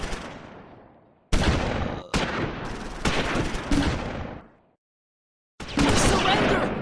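Rifle fire rings out from a gun crew in the WWII strategy game Close Combat 4, set at Wiltz in the Battle of the Bulge, loud sharp bursts separated by short gaps, each with a decaying tail.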